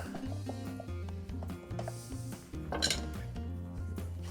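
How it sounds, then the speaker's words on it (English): A spoon stirring milk into a cup of coffee, soft clinks and scraping of metal against the cup repeating several times, fairly quiet, with a low hum and faint music in the background. "I take mine with a little bit of milk. Give it a little stir."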